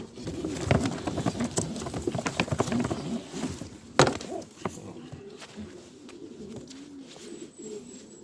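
Pigeons coo in soft, repeated bubbling calls close by, with occasional fluttering and light tapping sounds around them.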